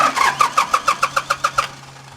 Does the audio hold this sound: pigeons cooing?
no